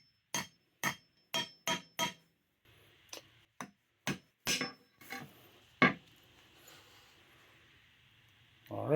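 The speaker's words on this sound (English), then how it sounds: "I'm going to put one of these conical metal wedges in here." A conical metal wedge is hammered into a Pulaski tool handle: a rapid run of five sharp hammer strikes, then slower, spaced blows with a ringing metallic edge, close and loud with quiet gaps between.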